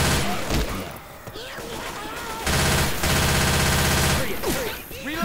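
Bursts of rapid automatic gunfire rattle through a carnival-themed shooter match, loud and sustained in long sprays with brief pauses, while players shout over the shooting.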